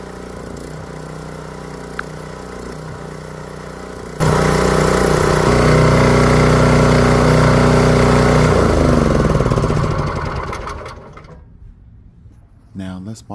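A Classen TR-20K dethatcher (turf rake) engine drones loudly and steadily for several seconds after a quieter hum, then winds down and fades out near the end.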